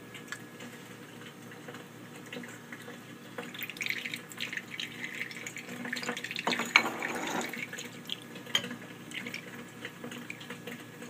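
Water trickles and splashes softly as cyclops fish food is rinsed through water in a small container, with irregular close drips and swishes peaking midway and no talk.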